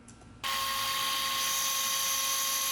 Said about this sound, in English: So I decided to go ahead and drill the hole first at the back part of this